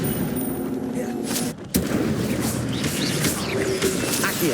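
In Hogwarts Legacy, the Incendio fire spell is cast during combat, with dense whooshing blasts and booming impacts that fill the scene. The din cuts out briefly at one point, then surges back.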